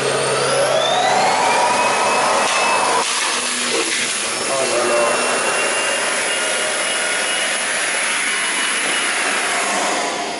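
Cordless stick vacuum cleaners, Dyson V8, V10 and Xiaomi Roidmi F8, sucking up dirt from a floor in a single pass: a loud, steady high-pitched motor whine with airy rushing suction, continuous throughout with slight shifts in tone.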